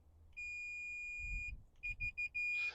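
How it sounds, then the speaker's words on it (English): A multimeter on continuity test beeps while checking a lowrider solenoid circuit, one long steady tone followed by a quick run of short, close beeps and another sustained tone. "it'll actually beep when something's completing a circuit as such."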